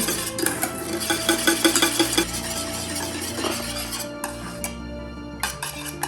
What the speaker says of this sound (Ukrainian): Все гарно перемішую до однорідності.